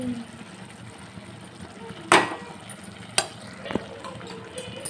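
Karnataka-style bisi bele bath is stirred in a pan with soft, quiet scraping throughout. One louder scrape and a couple of sharp clacks stand out, and faint talk may sit in the background.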